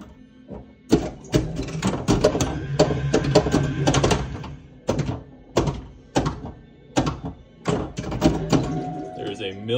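Stern Trident pinball machine in play, with a steady run of sharp mechanical thunks, knocks and clacks from kickers, slingshots and ball impacts, irregular and close, under a voice talking over the game.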